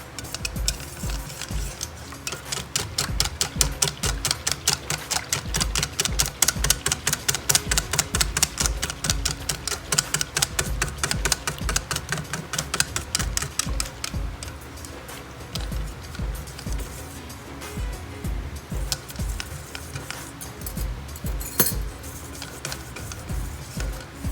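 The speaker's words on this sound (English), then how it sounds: "And we will continue to whisk it." Kuih Kosui batter whisked by hand in a bowl, a fast, even run of light ticking strokes that holds steady for a long stretch, then loosens into a slower, more irregular clatter.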